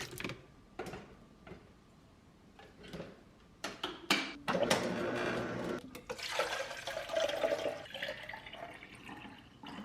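Produce being rinsed in a water container: splashing and running water builds after a few light taps and clinks, growing louder and steadier through the second half, close by with no talk.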